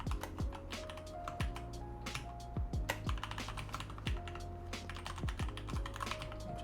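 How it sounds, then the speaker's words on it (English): Steady, rapid typing on a computer keyboard while a Linux install command is entered, a dense stream of crisp, close key clicks with no pauses and no talk. "I'm gonna type it all in."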